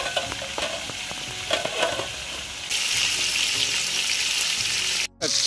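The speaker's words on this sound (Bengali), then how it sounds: "আমরা পাঙাশ মাছগুলোকে ভাজার জন্য অল্প তেল ইউজ করবো" Pangasius (sea pangasius) fish frying in a little oil, a steady loud sizzle that swells stronger partway through, with occasional stirring scrapes and a brief dropout near the end.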